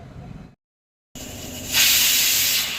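A pressure cooker with rice for kheer vents steam in a loud, steady hiss that surges after a brief silence and holds to the end, with no talking.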